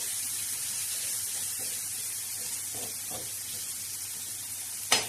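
Onion, tomatoes and green chillies sizzle on a hot tawa, a steady soft hiss of frying throughout, with a sharp click near the end.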